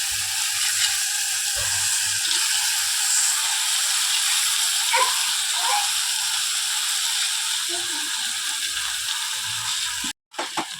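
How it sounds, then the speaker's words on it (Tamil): Cleaned paddy-field crabs go into a pan of sautéed onion, tomato and green chili, giving a steady, loud sizzle with scattered clicks and scrapes throughout and a brief break near the end. "இப்போ நல்லா தக்காளி வெங்காயம் பச்சை மிளகா எல்லாம் நல்லா வதங்கிடுச்சு நம்ம க்ளீன் பண்ணி வச்சுருக்க இந்த வயக்காட்டு நண்டியும் இதில் சேர்த்துறணும்"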